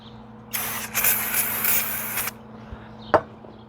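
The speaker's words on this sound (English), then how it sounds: "Whoa, careful where you spray that." A close aerosol spray hisses in a long burst of almost two seconds with a brief break, during a 10R80 transmission service on a 2018-or-later Ford Expedition, followed by quiet and a single sharp knock.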